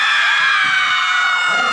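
A crowd of women at a nightclub show screams loudly and continuously, a shrill, sustained chorus of high voices that fills the room.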